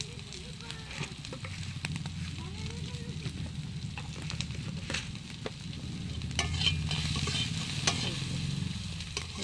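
Onions fry in a pan with a sprinkle of salt, giving a steady close sizzle with stirring scrapes throughout and a slight swell in intensity toward the end.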